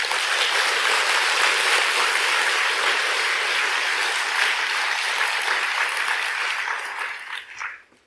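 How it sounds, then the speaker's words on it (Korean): An audience at a Buddhist dharma lecture in a temple bursts into sustained applause, a thick, even patter of many hands that carries on steadily before fading out near the end. "그런 의미에서 우리 박수 한번 쳐볼까?"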